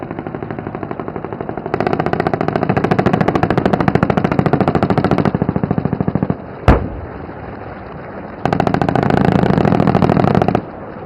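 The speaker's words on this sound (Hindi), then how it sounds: "रुद्र हेलीकॉप्टर के प्रलयकारी प्रहार ने शिव तांडव रचते हुए दुश्मन के टैंक और हेवी व्हीकल कॉलम को पूरी तरह नेस्तो नाबूद" A Rudra armed helicopter fires on enemy tanks and a heavy vehicle column during the Bharat Shakti exercise at Pokhran, Rajasthan: loud, rapid bursts of automatic gunfire in two long strings, separated by a single sharp blast and a brief lull.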